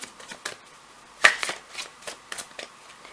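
A deck of tarot cards is shuffled by hand, producing a series of soft riffling flutters and light slaps in an uneven rhythm, close and fairly quiet.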